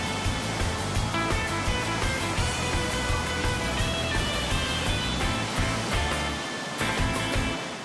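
Ocean surf crashes and hisses continuously at a beach where rescue trainees paddle boards through small waves, a dense, loud wash of breaking water with no pauses.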